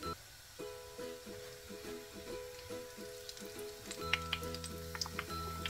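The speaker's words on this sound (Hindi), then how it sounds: "थोड़ा सा हम इसको फ्राई करेंगे हल्का सा इसमें।" Peanuts and almonds frying lightly in oil for homemade crispy bazaar-style nimko give a soft, steady sizzle, with a low humming drone beneath and a few small clicks and pops toward the end.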